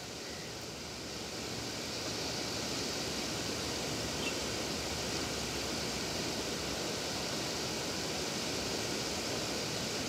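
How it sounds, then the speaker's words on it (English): A steady field recording from southern Denmark fills the whole span with dense, broadband hiss much like white noise, slightly quieter in the first second and then constant and even, with no voices. "basically white noise based material with,"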